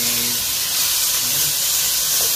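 Duck pieces sizzling loudly in hot oil in a pan for Ilocano-style duck adobo, a steady dense hiss throughout with faint low rumble underneath.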